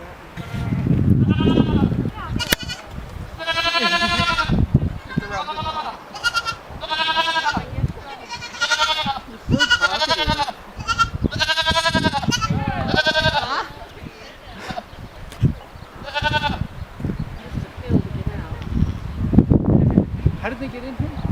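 Dozens of baby and kid goats on a goat farm bleat loudly and often, their cries overlapping close by, while people talk at times among the calls.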